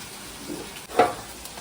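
An egg fries in a pan, cooked like a gravy-style fry, giving a soft close sizzle with a brief burst of stirring or spattering near the middle.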